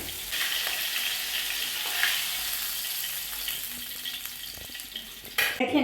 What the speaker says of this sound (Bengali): মাছগুলি একে একে ফ্রাই প্যানে দিয়ে দেবো।